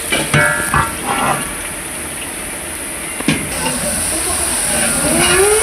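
Sanna karapusa dough pressed into hot oil, frying with a loud, steady, bubbling sizzle and hiss that fills the whole moment, with a few soft knocks.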